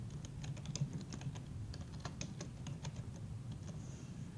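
Typing a name into a widget form on a computer keyboard, with steady, fairly quiet clicking keystrokes in an irregular rhythm throughout, no voices.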